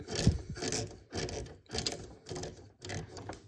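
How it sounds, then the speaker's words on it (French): A screw being driven by hand into a plastic KITT model car, heard as about five rhythmic bursts of rasping, grinding twists separated by short pauses, close and fairly quiet. "je vais essayer de visser droit parce que ça m'a l'air de vis en biais"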